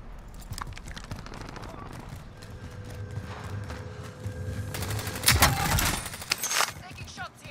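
Gunfire in Call of Duty: Modern Warfare: scattered shots over busy game noise, building into a dense, loud burst of rapid fire near the end. Players' voices sit in the mix.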